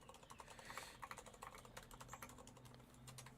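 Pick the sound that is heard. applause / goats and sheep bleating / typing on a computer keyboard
typing on a computer keyboard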